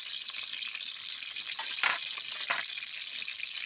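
Dried red chilies, mustard seeds and bay leaves fry in hot mustard oil, giving a steady bright sizzle with a few louder crackling bursts, close and continuous.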